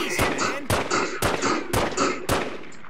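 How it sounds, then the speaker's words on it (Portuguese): Pistol fired rapidly in The Godfather PS2 video game, five sharp, loud gunshots spaced roughly half a second apart, each with a short echoing tail. "ela tem 10 balas, né? Eu vou atirar rapidamente"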